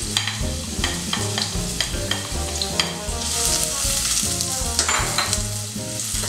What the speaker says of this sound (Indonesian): Pertama kita akan masukin bawang putih dan juga bawang merah ke dalam.